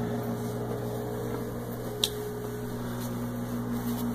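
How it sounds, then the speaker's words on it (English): Steady, fairly loud hum and whoosh of an exhaust blower on a Chinese laser engraver, running alone with a constant tone and one brief click partway through. "But the blower, it's kind of loud,"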